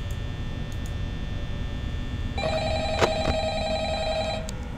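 Telephone ringing in the Five Nights at Freddy's horror game: a bright electronic ring tone begins about halfway through and repeats steadily over a low background hum, fairly close and clear, with no talk over it.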